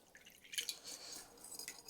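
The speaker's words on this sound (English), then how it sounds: "I'm going to add a little bit of this brine" Brine is poured into a mayo-free slaw dressing, giving a soft, faint trickle of liquid with brief dripping splashes over about two seconds, with no talk.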